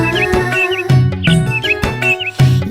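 Short, high sparrow chirps come in small bursts at regular intervals over the cheerful music of a Tamil children's rhyme, sitting clearly above the accompaniment.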